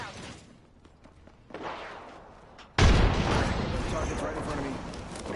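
A frag grenade blast in Fortnite, a sudden heavy boom that cuts in after quieter shuffling and is followed by a sustained rumbling, debris-filled roar.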